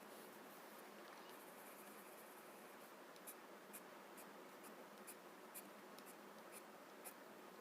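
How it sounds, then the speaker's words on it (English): A watercolor pencil scratches across paper while drawing floral backgrounds, a faint, steady hiss of soft strokes with small, sharper ticks every half second or so. "actually drawing with my watercolor pencil."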